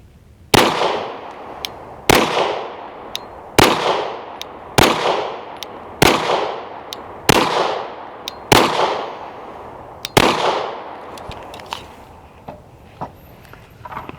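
Rapid shots from a Canik TP9SF 9mm pistol at an outdoor range, about ten loud sharp cracks in an even, quick rhythm, each ringing out briefly, followed by a few fainter clicks and knocks.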